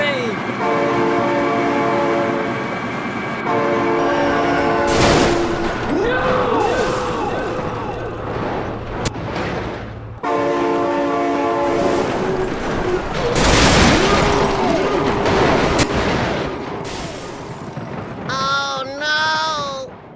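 In the driving game BeamNG.drive, a train blares its horn in long sustained blasts while heavy rumbling and sharp crash impacts break through, with excited talking over the top.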